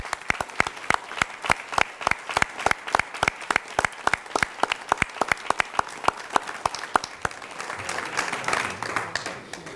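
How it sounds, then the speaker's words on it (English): Steady audience applause for five student finalists at a youth business pitch competition, dense rhythmic clapping throughout, swelling slightly with crowd murmur near the end. "please give a round of applause to our 5 finalists"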